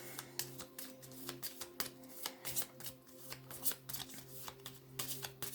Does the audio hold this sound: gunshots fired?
no